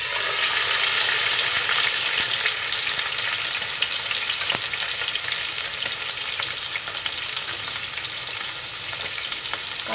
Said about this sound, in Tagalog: Fry muna natin yung isda.